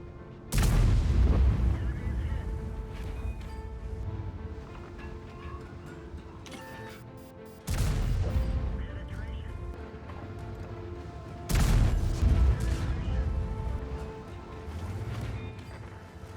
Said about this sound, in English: You can see my E3 gun just butters through these T95s